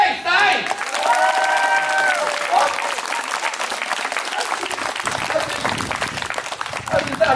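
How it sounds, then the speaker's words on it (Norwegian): Audience applauding for a contestant named Øystein at a head-to-head clapping contest in Sponvika, a dense loud burst of clapping with cheers and whistles that holds steady for several seconds, voices mixed in. "Og så kan dere klappe på Øystein!"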